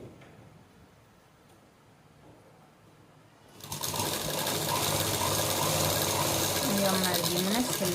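Sewing machine stitching a small Laddu Gopal idol dress, starting after a quiet few seconds and then running steadily and loudly at high speed to the end.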